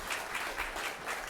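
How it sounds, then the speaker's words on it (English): Audience at the University Club applauding a Thomas Jefferson reenactor, a brief, faint, steady patter of many hands clapping. "give Mr. Thomas Jefferson, yes, Mr. Thomas Jefferson, a warm round of applause"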